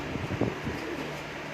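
A breeder's pigeon gives a few soft, low coos close by, faint against light wind and rustling.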